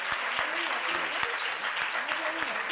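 Audience applause rolls through a lecture hall at the close of a talk on newspaper columns, steady clapping with distinct sharp claps and a voice speaking under it.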